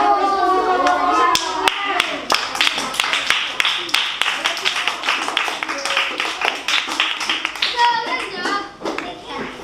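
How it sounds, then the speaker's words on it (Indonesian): A classroom of children claps for a group in a dense burst of rapid applause that tapers off toward the end, with kids' voices chattering underneath. "Ayo kita beri aplaus dulu kelompok 1."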